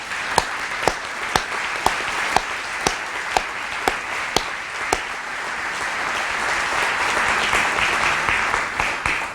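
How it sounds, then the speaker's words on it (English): A crowd at a university institute dedication applauds steadily, with loud individual claps standing out in a regular rhythm before the clapping blends into a dense wash and fades. "So I'll give the first of many rounds of applause,"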